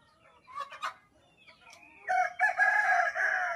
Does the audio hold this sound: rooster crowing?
yes